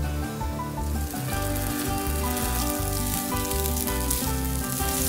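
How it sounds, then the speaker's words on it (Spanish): Leftover white rice for arroz chaufa fries in a very hot pan, giving a dense, continuous sizzle with no pauses under a steady background music track. "la clave de un buen arroz chaufa es sofreír un poco el arroz"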